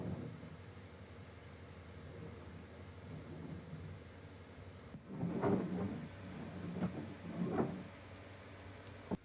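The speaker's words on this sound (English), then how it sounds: "scraping the hull with the hoe" Several rough scraping strokes of a hoe against a sailboat hull, muffled and resonant, repeating irregularly over a low background rumble.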